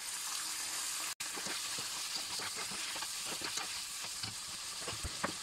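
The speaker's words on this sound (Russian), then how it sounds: "Все вместе обжариваем." Chicken liver sizzling in a frying pan, a steady broad hiss with small crackles and pops throughout and one brief dropout, no voices.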